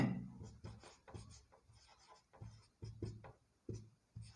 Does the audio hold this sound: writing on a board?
yes